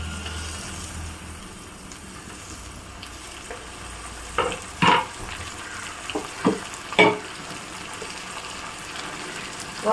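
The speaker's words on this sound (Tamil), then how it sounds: "இப்போ நம்ம தக்காளியை போட்டுக்கலாம்" Tomatoes fry with sautéed onions in a pan for a fish curry. A steady low sizzle runs throughout, and several sharp stirring scrapes land in the middle, with no speech.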